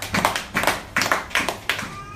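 Congregation at a Bible study and prayer meeting clapping in several short uneven bursts, close and fairly loud, with a faint voice underneath.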